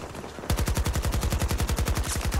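Rapid automatic fire from an AK-24 rifle with a Champion muzzle brake in the shooter Battlefield 2042 starts abruptly after a short pause, a loud, close, evenly spaced burst of about twenty shots.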